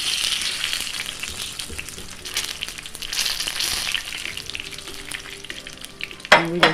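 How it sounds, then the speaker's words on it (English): Jamaican saltfish fritters sizzle steadily in hot oil, a dense crackling hiss that keeps going throughout, with a sharper clatter near the end. "And we just continue frying."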